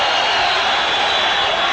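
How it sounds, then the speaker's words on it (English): Boxing crowd giving a loud, sustained roar and cheering ovation at the end of a round in a world title fight, a dense wash of noise throughout. "Oh, what an ovation."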